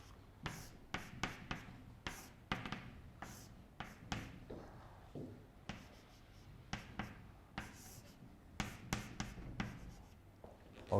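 Chalk or marker writing math on a board during a scientific computing lecture: a steady stream of short taps and scratching strokes, close and fairly quiet, with no talking over it.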